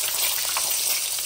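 Dried fish (daing) fries in a pan with a steady, fairly faint hiss and crackle of hot oil, brief and unbroken, with no voices.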